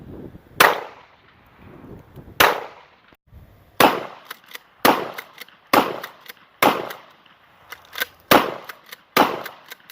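Pistol gunshots fired in a shooting drill, sharp loud cracks with short echoing tails, first spaced singly, then coming in quick pairs and clusters at a steady pace.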